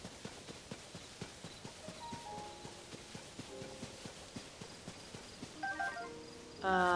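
Steady, rhythmic clip-clop of horse hooves trotting along in The Legend of Zelda: Tears of the Kingdom, moderately loud, with soft game music tones chiming in near the end.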